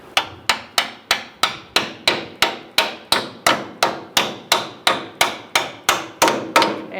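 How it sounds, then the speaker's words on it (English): A hammer taps a front lower control arm onto its stud on a 2014-2018 Subaru Forester, about twenty even, sharp metallic blows at a steady quick rhythm, close and clear with no talking. "once you have it lined up at the hole, you give it a gentle tap"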